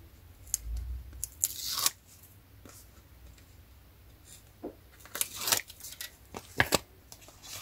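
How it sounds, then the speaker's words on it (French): Backing strips peeled off double-sided tape on both sides for a scrapbooking display, heard as several short, crisp tearing and crinkling bursts close by, separated by quiet pauses. "je vais retirer tout le double face des deux côtés cette fois-ci"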